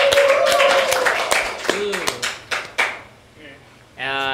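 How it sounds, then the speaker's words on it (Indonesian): An audience claps to welcome a guest onto an Indonesian student talk show, with bursts of claps mixed in among voices. Several sharp separate claps follow, then the room settles before talk resumes. "Tepuk tangannya."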